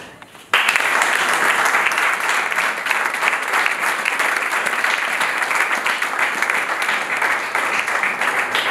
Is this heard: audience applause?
yes